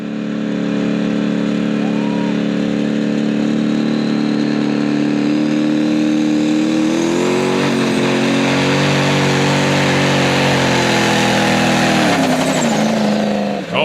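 A Super Stock diesel 4WD truck at a truck pull roars loudly and continuously for the whole run, its engine pitch holding high then climbing and wavering near the end amid crowd and announcer noise.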